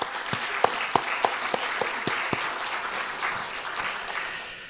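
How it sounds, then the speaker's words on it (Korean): Church congregation in a Korean service applauding the worship team: a few loud rhythmic claps first, then a dense wash of clapping that gradually thins out. "박수 한번 쳐주십시오"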